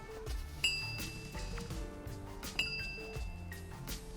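Light, glassy clicks and tinkling pings from the air vents of a Rolls-Royce Spectre electric car repeat a few times, quiet and close, like small pieces of glass touching.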